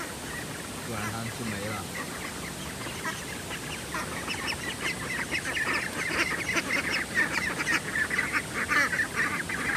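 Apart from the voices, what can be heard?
flock of ducks near a rice paddy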